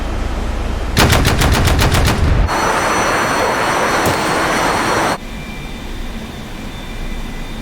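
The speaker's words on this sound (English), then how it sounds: "Small arms fire going up." Small arms gunfire in the DCS combat game's Falklands War scenario: a loud, close rapid burst of evenly spaced shots, followed by a dense roaring wash of fire and jet noise that abruptly drops to a lower rumble.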